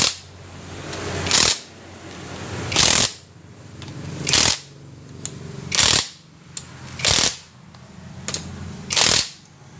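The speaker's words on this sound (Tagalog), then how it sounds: "So pagkatapos natin lagyan ng mga bolt ay higpitan na natin." A tool tightens bolts on a Pinoy 125 motorcycle engine under assembly. Six sharp, loud ratcheting bursts recur about every one and a half seconds, with quieter mechanical handling between them.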